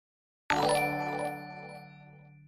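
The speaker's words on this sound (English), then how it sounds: "We got some sort of notification." A single notification ding sounds during an online blitz chess game, a bright chime that starts abruptly after silence and rings out with a long, fading decay.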